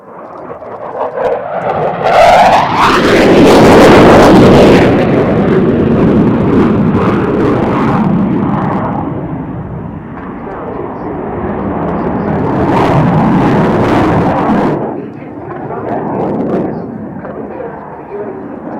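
Fixed-wing military aircraft making a loud roaring pass at the Cosford Airshow, the jet noise swelling, fading and surging again over nearly twenty seconds.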